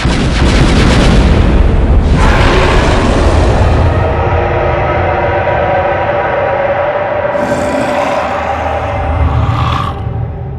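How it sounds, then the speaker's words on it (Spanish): Loud, deep explosive booms roll into one another, forming a continuous rumbling roar that surges and fades. "Recuerdo las 5 explosiones de las granadas"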